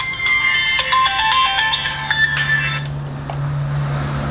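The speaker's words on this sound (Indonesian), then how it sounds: "Eh, telepon, telepon siapa nih?" A mobile phone ringtone plays loudly for several seconds, a bright repeating melodic pattern that cuts off partway, leaving low background hum.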